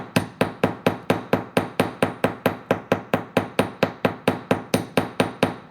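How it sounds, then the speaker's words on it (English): Jewelry wire held firmly on a hammering block takes a long, even series of sharp metallic hammer blows, about four per second, close and loud with no talking. "I'm holding my wire very firmly against my hammering block"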